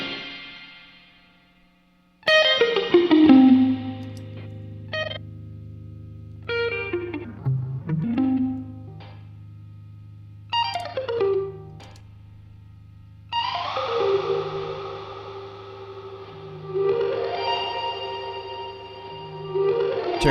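An electric guitar played through a Strymon Iridium set to reverb rings out in separate notes and chords, each leaving long, shimmering tails that fade into near silence between phrases.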